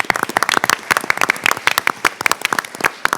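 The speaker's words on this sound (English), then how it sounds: "give our families a round of applause to say thank you" Students and audience clap for families at a school presentation and resolutions event, a dense burst of sharp, close handclaps lasting a few seconds with no talk.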